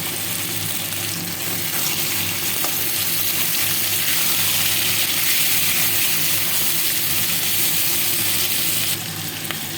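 Fried potatoes and boiled tomato sizzle loudly in a pan for an Indian dish, with a steady close hiss of frying throughout and faint clinks of stirring, no talking.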